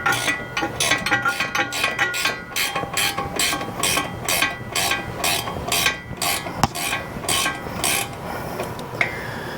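A ratchet loosens a 21 millimeter caliper bolt on a Ford Escape during front wheel bearing work, giving a long run of rapid, evenly spaced clicks up close with brief pauses, and no talking.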